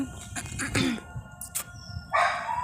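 A dog barks a few times at a short distance, sharp separate barks with brief pauses between them.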